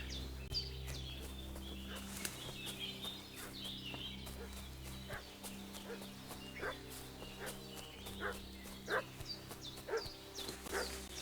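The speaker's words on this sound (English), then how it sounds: "What's that dog making such a fuss about?" A dog barks repeatedly in the video game Kingdom Come: Deliverance II, with sharp irregular yaps over a steady low ambient drone and faint birdsong, moderately distant and without talk.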